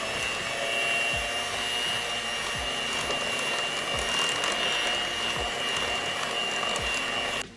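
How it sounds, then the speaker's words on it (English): Electric hand mixer beating butter, sugar, eggs and vanilla together: a loud, continuous motor whine with a steady buzz, broken by repeated low knocks as the beaters strike the bowl, then cutting off at the end. "I'm gonna use my hand mixer"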